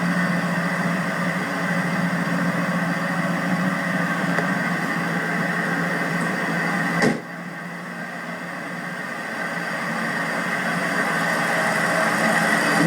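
A 2004 Ford Mustang SVT Cobra Terminator V8 with 12k miles, not yet warmed up, idles steadily and close by with a brief dip in the rumble partway through before it settles back to an even drone.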